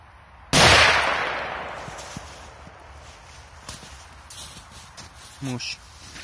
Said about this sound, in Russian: Так, следующая петарда